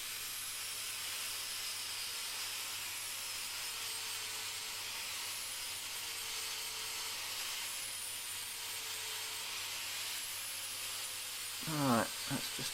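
Metal being ground off on a belt grinder during a workshop build produces a continuous hissing, rasping grind with a faint wavering whine, ending in a short knock or clunk.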